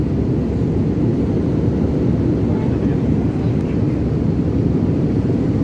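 Constant low, rumbling roar of an airplane cabin during descent, steady and enveloping with no breaks.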